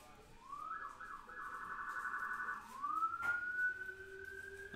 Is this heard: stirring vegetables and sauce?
no